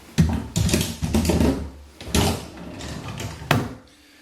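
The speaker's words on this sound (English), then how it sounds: "Now the drawers themselves, so we're going to get these put back in." Poplar wooden drawers slide and knock back into a folding laundry-room table, a series of separate wooden thumps and scrapes, close and fairly loud, with no talking.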